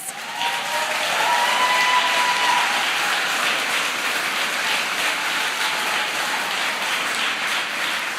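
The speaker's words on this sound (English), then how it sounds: "They deserve a round of applause." Sustained applause from a large crowd at a President Biden event in Alabama, dense and steady clapping filling the whole stretch without a break.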